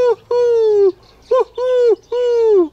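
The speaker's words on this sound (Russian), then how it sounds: "Голуби угукают." Pigeons cooing close by, four drawn-out throaty coos in a row with short pauses between them.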